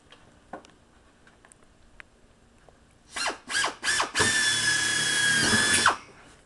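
A power drill bores holes through an aircraft nose cone and support plate. After faint ticks come three short bursts, then one long loud run of high whine, close up and alone.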